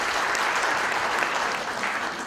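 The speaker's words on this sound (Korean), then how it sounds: "여러분 다시 한번 박수 부탁드립니다." Attendees at a founding assembly applaud continuously, a steady, even roar of many hands clapping close by with no break and no talking over it.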